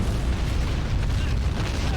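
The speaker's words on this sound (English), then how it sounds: "that was a really good artillery shot right there." Artillery shells burst in a toy-soldier battle in the game Army Men of War during a coastal beach invasion, a loud, dense rumbling roar of blasts layered continuously for two seconds.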